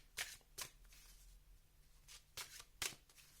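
A deck of cards shuffled for a card reading, heard as four or five short, crisp riffles and slaps with gaps between them in a quiet room.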